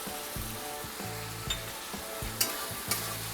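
Mutton keema with chopped tomatoes sizzles steadily in a pan, with scraping stir strokes and a few sharp clinks of a spoon against the metal, close up with no talking.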